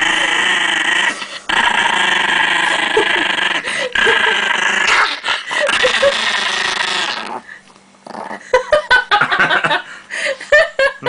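An aggressive chihuahua growling in a home kitchen, a long loud rattling snarl held for several seconds, then a pause and shorter, choppy growls; people talk around it.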